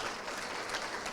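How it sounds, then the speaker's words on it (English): Brief, fairly faint audience applause, a soft burst of many hands clapping at a spiritual healing talk. "So another incredible round of applause, please, for Dr. John, an amazing soul"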